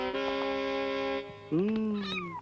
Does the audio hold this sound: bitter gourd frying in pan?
no